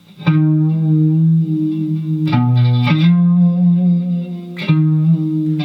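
Sustained electric guitar notes with chorus and distortion, the pitch bending down and back up midway, ringing loud and close with no talking.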